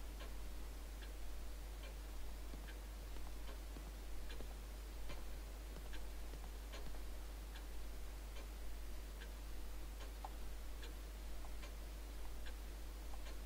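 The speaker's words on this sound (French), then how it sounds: "J'adore le bruit de l'horloge, c'est vachement rassurant quand même." A clock ticks in the horror video game The Evil Within, a steady, evenly spaced series of faint, crisp ticks over a quiet ambient background with no talk.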